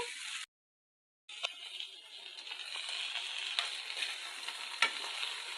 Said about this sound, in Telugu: మనం భెండీస్ ఏ విధంగా మీడియం ఫ్లేమ్ మీద ఫ్రై అవుతున్నాయండి